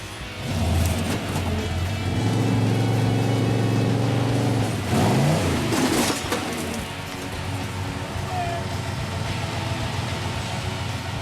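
A Jeep CJ8 Scrambler's engine roars loudly on a 4x4 off-road trail after an accidental throttle, sustained high revving close by, then a sharp rise and drop before settling into a steady rumbling idle.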